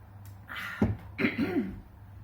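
A few rough coughs mixed with throat clearing, close and fairly quiet, arriving in short bursts with brief pauses.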